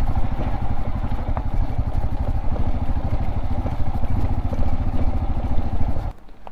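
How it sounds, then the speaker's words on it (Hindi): A Scram 411 motorcycle rides off-road over a badly broken, rough track near Darjeeling's Kalej valley, its engine thudding in a steady, close pulse with rattling and clatter before it drops away abruptly near the end. "ये स्क्रैम 411 बाइक से मैं फर्स्ट ये ऑफ रोडिंग कर रहा हूँ, मतलब डेंजर ऑफ रोडिंग है ये"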